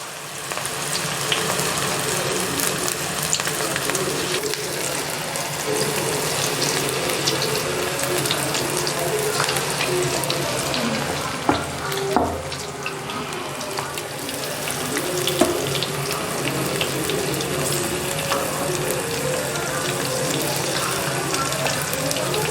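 Banana flower pakoda batter frying in hot oil, giving a steady, dense sizzle that runs the whole time with small crackles and pops, close and fairly loud, with no talking.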